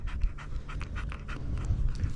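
A dog pants close up in a steady, rapid rhythm of breathy huffs, with low rumbling background noise and no talking.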